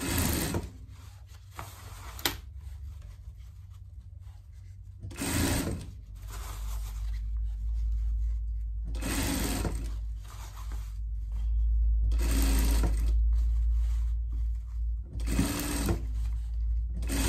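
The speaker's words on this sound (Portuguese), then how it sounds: "Vamos dar uma costura de segurança aqui, pra daí a gente passar o nosso filete." A sewing machine stitches a safety seam on a pet jacket in repeated short bursts of rapid mechanical whirring, separated by pauses with faint handling noise, all close and fairly loud.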